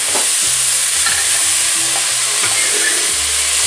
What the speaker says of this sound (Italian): diamo una bella mescolata